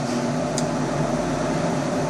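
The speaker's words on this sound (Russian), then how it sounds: "Сейчас мы ложим ее в печечку, она греется." Oven heating a Volkswagen Crafter 2.0 TDI cylinder head before welding, a steady, even hum with a broad airy rush and low tonal drone, with one brief faint click partway through.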